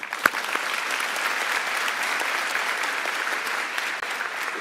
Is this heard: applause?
yes